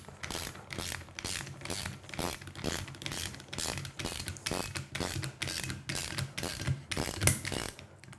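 A torque meter tightens a valve screw on a Pentair Südmo SVP Basic single seat valve, giving a steady run of dense mechanical ratcheting clicks up close, with one sharper click near the end.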